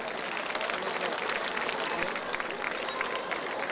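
An Italian audience at an evening event remembering women killed by men claps in a thick, even wash of applause that holds steady throughout, with crowd murmur underneath.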